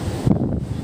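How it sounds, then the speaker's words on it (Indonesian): Strong wind buffeting the microphone on a beach where people haul a long fishing net ashore, a loud low rumble with gusty bursts throughout. "Anginnya kencang sekali ya teman-teman."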